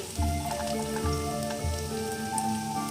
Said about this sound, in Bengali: গাজর আর বিনসটা একটু পেঁয়াজের সাথে ভাজা ভাজা হবে।